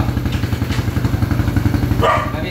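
A motorcycle engine runs nearby at idle, its steady pulsing putter chugging evenly throughout, with a brief clatter near the end.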